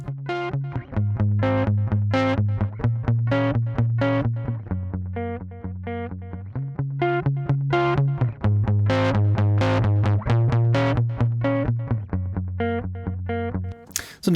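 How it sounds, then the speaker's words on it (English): A soloed guitar riff crunched through Bitwig's Over distortion plugin, saturated and loud, repeating its phrase of low chugging notes without pause and with no voices on top. "this is a new distortion plugin called Over, and as you can hear, we can really burn and crunch the sound with some distortion"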